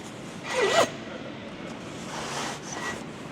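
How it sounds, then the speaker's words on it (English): Zipper on a Revolvashade storage cover being pulled shut, one short close rasping zip followed by a fainter rustle, against a breezy outdoor background. "And then close the zipper."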